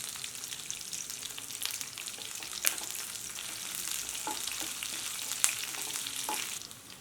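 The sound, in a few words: cumin seeds frying in hot oil for tomato chutney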